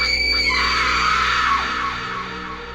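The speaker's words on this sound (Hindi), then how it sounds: "अचानक एक दिल दहला देने वाली चीख ने खामोशी को तोड़ दिया।" A long, piercing scream of horror rings out loud and shrill for about two seconds, then fades into a lingering reverberant tail, with no speech alongside it.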